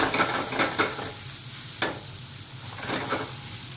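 Greens wilting in a hot pan, a bright close sizzle with a burst of stirring scrapes at the start, one sharp clack midway and more scraping near the end.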